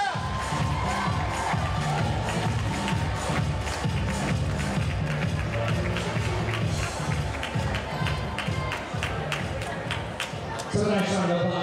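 At a dance sport championship, a crowd cheers and claps loudly for the finalist couples, with shouts and steady applause over rhythmic music.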